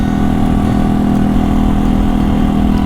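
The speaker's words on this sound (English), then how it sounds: "It's got a reliable sounding engine." A steady motorcycle engine idles close by, a continuous low rumble with a constant hum and no revving, holding even for the whole stretch.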